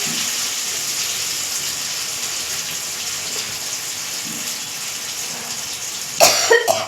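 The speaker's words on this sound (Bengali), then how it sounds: "প্রচণ্ড কাশি হচ্ছে" Someone cooking in a kitchen gives one short cough near the end, close by, after several seconds of soft, steady hiss.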